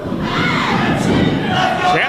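Wrestling arena crowd roars and cheers in a steady, loud wash of voices, with a commentator talking over it.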